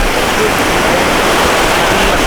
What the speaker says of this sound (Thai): ตอนนี้ลมแรงมากนะครับ คลื่นรู้สึกว่าคลื่นแรงมาก